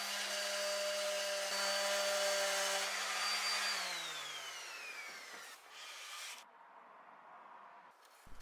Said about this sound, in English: finished it off little by little with a sanding